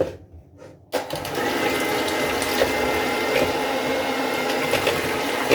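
Eggs are beaten for a flourless bake, a steady loud whirring hum that starts abruptly after a quieter second and runs continuously, close by and alone.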